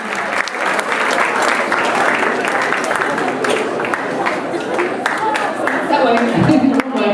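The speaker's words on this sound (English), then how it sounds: "Big round of applause for Marlene." A crowd at a Latin Motion and Buena Vista Christmas concert applauds a salsa dancer with loud, sustained clapping and cheering for about seven seconds, voices mixed into the noise throughout.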